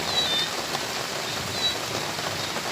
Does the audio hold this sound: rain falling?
yes